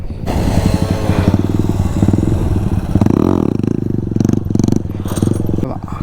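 Stock Bajaj Pulsar NS 200 motorcycle during wheelie training, a loud, close engine drone that holds steady and rises in a rev partway through, with rattling clatter throughout.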